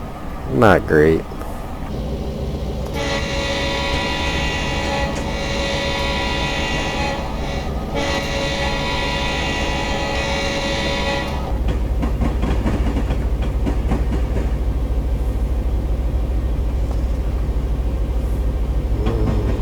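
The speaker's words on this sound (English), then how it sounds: "Pretty standard passenger car sounds, which is air wishing past." Steady rushing air and rolling hum inside an Amtrak passenger car behind an EMD E8 locomotive in Train Simulator Classic, a continuous moderately loud whoosh with tonal whine layers that shift partway through and a brief voice at the start.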